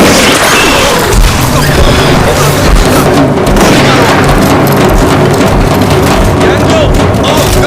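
Loud, chaotic gunfire and crashing booms from a Hindi-dubbed alien-attack movie fill the scene, dense and continuous with sharp bursts throughout.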